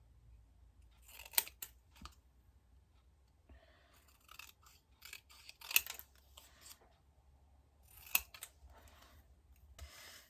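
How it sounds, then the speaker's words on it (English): Scissors fussy cutting around a paper piece for a handmade Mother's Day card, a series of close, quiet snips and rustles in a few clustered bursts over a near-silent room. "if we fussy cut this one"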